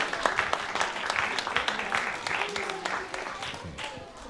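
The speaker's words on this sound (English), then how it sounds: "Let's send them off stage with a nice round of applause." An audience at a youth event gives a sustained round of applause with many hands clapping, steady and fairly loud, with scattered voices mixed in.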